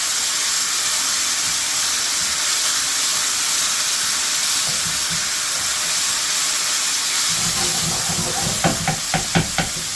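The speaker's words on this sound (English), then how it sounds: "Let me just allow that to stop sizzling so much." Tomato masala and cooked ingredients sizzling in a hot pan for a prawn madras, a steady loud hiss with crackling spits growing busier toward the end.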